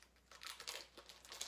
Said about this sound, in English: I'm just gonna cut into this with my scissors, just cut a tab off